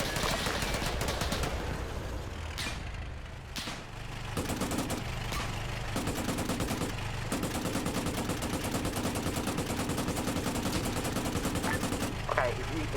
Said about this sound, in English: Roger, firing 5 rounds.